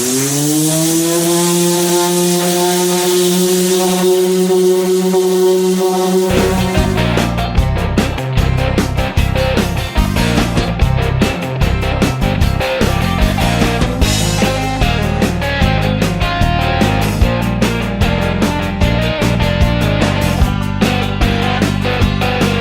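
A power sander with 220-grit paper works over Bondo-filled car bodywork, spinning up with a rising whine and then grinding on in a loud, steady, rough buzz with no talk.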